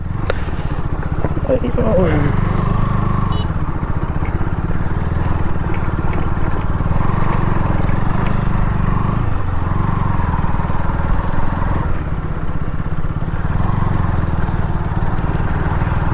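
A motorcycle ridden near the Daojeng Bhutan border in Assam, its engine droning steadily and loudly up close with a constant low rumble and rush of wind, while people talk over it.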